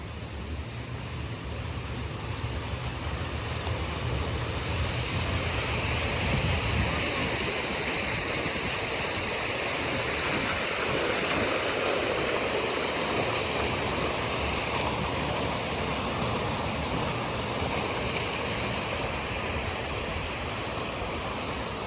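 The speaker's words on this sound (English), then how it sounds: "the lazy river runs all through this place" Steady rushing water at a resort lazy river and water slides in La Romana, Dominican Republic, a continuous broadband flow with a lower churning rumble in the first few seconds, no voices over it.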